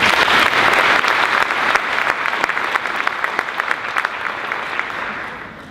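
Sustained applause from an audience at a high school team presentation, steady dense clapping throughout at fairly loud level, tapering slightly toward the end with no speech over it.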